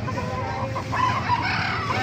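Bulik and SBR gamecocks clucking and crowing nearby at a market over a steady background hum, several overlapping calls, no clear talking.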